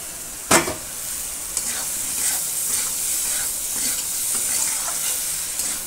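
Pasta and Maggi noodles fry in a pan and are stirred, giving a soft steady sizzle with a sharp clatter near the start and occasional light scraping strokes.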